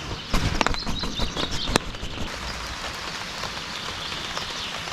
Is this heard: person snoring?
no